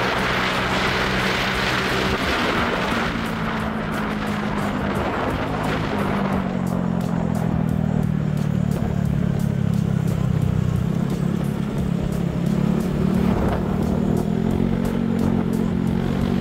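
A Honda BeAT v3 scooter fitted with a power pipe exhaust revs loudly and close by, its engine note climbing and falling through sustained throttle pulls with a rattly, raspy drone and no talking.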